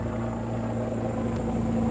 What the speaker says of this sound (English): Here comes the stealth helicopter.